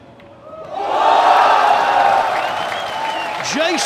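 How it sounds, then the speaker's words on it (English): Spectators at a 2024 Mansion Sports Hanoi pool quarter-final break into loud cheering and applause after a successful shot, a sustained swell of crowd noise that rises quickly and stays loud, with whoops on top. "This crowd loving it."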